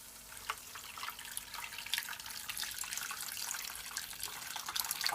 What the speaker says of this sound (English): So now I'm gonna also add some boiling water to my pot.